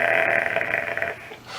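Someone imitates a monster with an inhaled voice, giving a rough, croaking growl with a rattling pulse. It is close, lasts just over a second and fades at the end.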